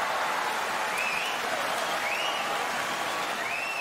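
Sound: sumo fans cheering and applauding

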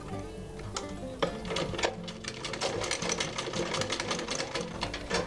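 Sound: sewing machine stitching cloth face mask

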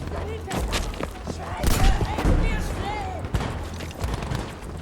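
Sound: shotgun fire in Battlefield V video game

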